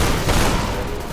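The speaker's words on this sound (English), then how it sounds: "Double barrel shotguns, go!" Double-barrel shotguns firing in Deadfall Adventures, a dense, loud burst of overlapping blasts filling a short moment with no pause between them.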